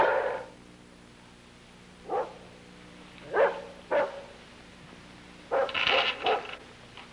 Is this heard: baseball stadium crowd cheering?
no